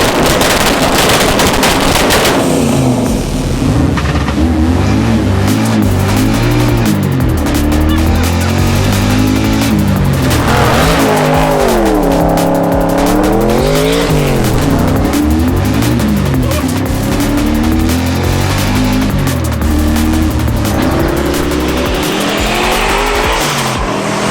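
Twin-turbo V8 Subaru Justy with a manual gearbox driven hard, the engine roaring and rising and falling through revs while tires squeal and skid in loud, repeated bursts.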